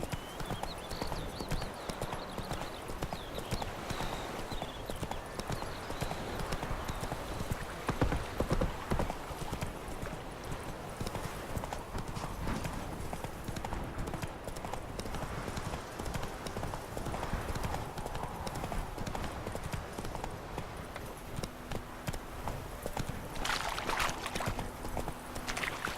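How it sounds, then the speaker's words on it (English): A horse in the Witcher 3 video game clip-clops along at a steady walking pace for the whole stretch, its hooves close and clear over game ambience. "Whoa there, Roach."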